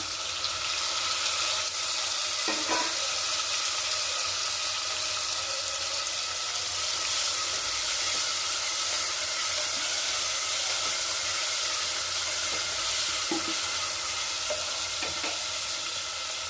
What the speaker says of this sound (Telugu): ఇప్పుడు టమాటా వేసుకుంటున్నాను.